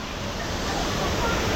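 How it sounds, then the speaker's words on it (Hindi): Panchpula waterfall in Dalhousie pours as a steady, loud broadband rush of falling water, continuous and close throughout with no break. "वाह, ये है दोस्तों वाटरफॉल।"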